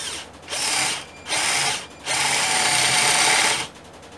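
A Mondial impact drill-driver set to screwdriver mode at torque setting 5 whirs loudly in three close bursts, two short and one longer, with brief pauses between.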